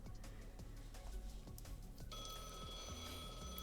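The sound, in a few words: telephone ringing in the video game Blue Archive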